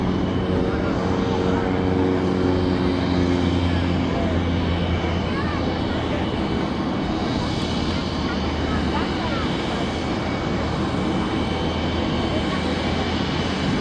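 An F-16 fighter jet flies a hammerhead turn during an air show at Travis Air Force Base, producing a steady, loud, broadband engine roar that fills the whole stretch without letting up.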